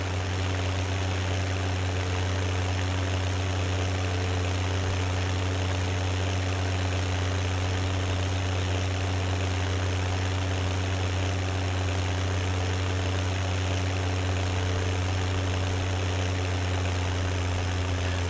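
Small tractor engine idling in Farming Simulator 17, a steady low rumbling drone that holds unchanged and fairly loud throughout, with no other sounds over it.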